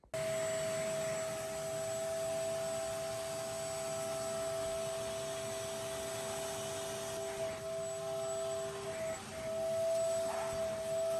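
Vacuum cleaner running steadily on a tan Costco modular couch, a constant loud whine with slight shifts as the nozzle moves over the upholstery.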